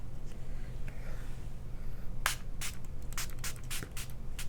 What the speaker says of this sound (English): I'm just gonna shake it and then I'm gonna spray